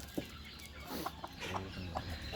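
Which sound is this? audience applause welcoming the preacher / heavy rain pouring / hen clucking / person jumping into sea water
hen clucking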